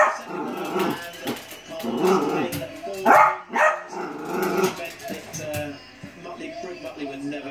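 Dog barking and growling while watching Crufts dog show coverage on TV, loud repeated barks and yips in bursts over the television commentary.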